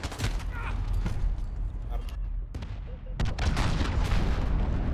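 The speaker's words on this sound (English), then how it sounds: "Enemy cruise missile, take cover." A cruise missile strike in the Call of Duty Modern Warfare multiplayer beta lands as heavy rumbling booms and blasts, loud and continuous, with a short lull midway before the barrage swells again.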